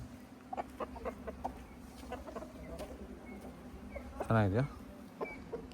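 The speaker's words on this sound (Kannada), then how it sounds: "ಬಂದಿದ್ದ ಕೋಳಿಗಳು ಇದೆಲ್ಲ" Farm chickens cluck and call in short, scattered bursts at moderate distance, with one louder, close squawk near the end over a low steady background hum.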